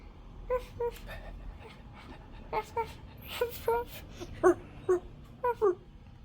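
A dog whimpers and whines in a series of short, high, plaintive cries at an irregular pace over a low background hum, close and fairly clear.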